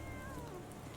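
A cat in Sherlock Holmes: The Awakened lets out a single drawn-out meow with a falling pitch, set over a dense, steady game ambience.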